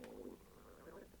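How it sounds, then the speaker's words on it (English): A hungry stomach gives a brief, low gurgling rumble, faint and close, with no other sound over it. "I'm hungry. I don't know if you heard that. That was my stomach."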